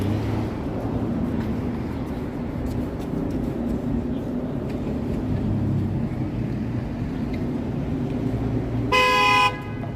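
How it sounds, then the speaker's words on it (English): Several car horns honk briefly near the end over a steady roar of rush-hour city street traffic, with construction nearby in downtown Toronto. "What are you honking at?"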